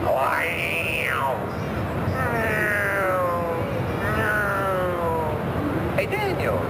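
Cat meowing repeatedly, several drawn-out rising and falling calls over steady background noise at a 1992 event, with a person talking nearby.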